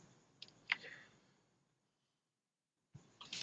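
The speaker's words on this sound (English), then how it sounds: "So I'm going to click on further." A few sharp computer mouse clicks, close and quiet, clustered near the start, then near silence, then another small burst of clicks at the end.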